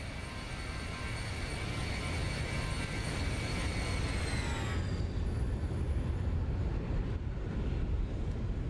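Boeing 737-800 jet engines at takeoff in the X-Plane 11 flight simulator, a loud steady roar with high whining tones that glide downward partway through, then a broad continuous rush.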